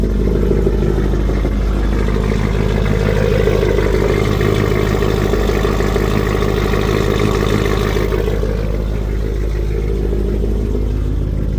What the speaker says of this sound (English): But definitely idling a lot better.